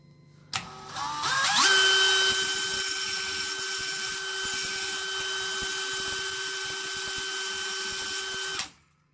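A drill-powered wire brush accessory strips paint from a surface, a steady loud high-pitched whine with a gritty scraping undertone that spins up sharply and runs continuously for about eight seconds before cutting off.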